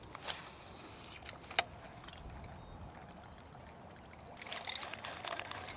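Someone in waders wading through shallow creek water past grass and brush while bass fishing: a couple of sharp clicks early, then a quiet stretch, then a close swishing slosh of water near the end.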